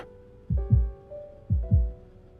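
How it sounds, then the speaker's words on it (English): Synthetic heartbeat effect from the game Love & Deepspace: two paired lub-dub thumps, low and booming, close and prominent over a soft sustained musical pad. "can you hear my heartbeat?"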